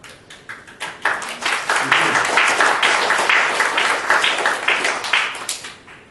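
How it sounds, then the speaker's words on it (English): Audience applause at a speech by Dato Jerry Chan about hill slope development, a dense burst of clapping that swells after the first second and holds steady, fairly close and loud. "you can applaud, no problems with that"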